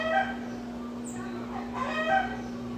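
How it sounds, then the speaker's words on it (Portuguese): A rooster crows again and again nearby, a strained, harmonic call rising over a steady background hum. "Eu tô rindo porque ele não para de cantar,"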